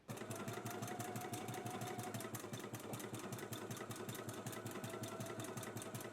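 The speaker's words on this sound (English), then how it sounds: "So let's go ahead and sew on our buttonholes now." A Brother ME2110 sewing machine stitches buttonholes in a rapid, even mechanical whir with regular needle ticks, running continuously and fairly quietly.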